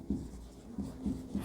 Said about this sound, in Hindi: मैं दूसरा टाइप्स को यहाँ लिखता हूँ